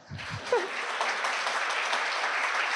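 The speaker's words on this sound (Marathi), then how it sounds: "टाळ्या वाजवा ना मग." A crowd of competitive-exam students applauds at a felicitation ceremony in Pune, swelling quickly into a dense, sustained roar of clapping after a few words of talk.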